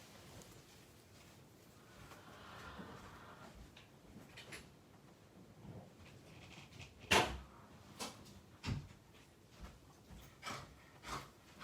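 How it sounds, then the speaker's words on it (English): Faint room noise, then a sharp thud as a door shuts, followed by several softer clunks and knocks. "I'm just going to shut that door."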